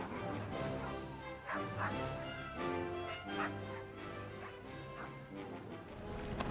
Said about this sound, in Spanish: Los acompañaban casi 70 perros canadienses, alterados por el mar y reclamando constante atención.